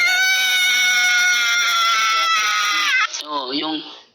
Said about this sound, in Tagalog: yung sigaw niya, yung uri ng kanyang pagsigaw